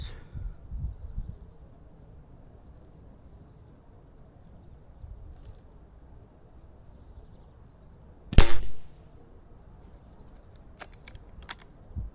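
HW97K air rifle firing during a grouping accuracy session outdoors, with one sharp, loud shot standing out against a quiet background, followed by faint ticks and clicks.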